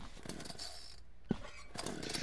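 Game chainsaw from Office Horror Story: Arrival of the Chainsaw Killer revving in short rasping bursts separated by a brief gap, quiet and somewhat distant, with a sharp knock midway and no speech.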